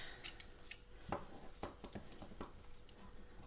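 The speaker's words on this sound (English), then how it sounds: "If I need to cut something, I'll just grab a pair of scissors and cut them." A pair of blunt scissors makes a few close, sharp snips while cutting fabric for decoupage on terracotta, the crisp cuts spaced irregularly against a quiet background.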